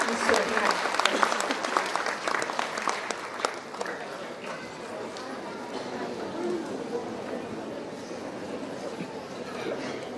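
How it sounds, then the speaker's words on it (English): Audience applause at a school annual prize distribution and cultural day welcomes a guest onto the stage, a dense crowd of clapping that starts loud and steady, then thins slightly but keeps going throughout. "May I now request everyone to give a warm round of applause as we warmly welcome Ms. Surabhi Hande."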